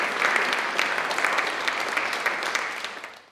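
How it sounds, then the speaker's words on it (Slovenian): An audience gives a big, sustained round of applause for a speaker at a book event on Kočevje song heritage, steady and full for about three seconds before tapering off. "dajmo en velik aplavz za doktorico Anja Moric"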